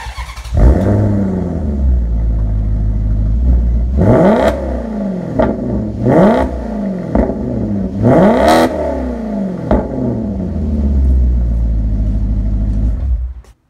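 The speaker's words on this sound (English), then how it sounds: "So that was the exhaust with the valves open." Maserati GranTurismo exhaust with its valves held open, revving repeatedly: a loud, close engine note climbing and falling in several sharp blips over a steady idle rumble, with no talking.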